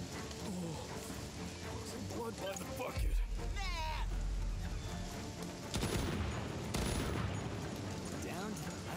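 Gunfire in the turn-based tactics game Jagged Alliance 3, a few sharp shots and bursts with a heavy low thump midway, mixed with game sounds and someone talking over it.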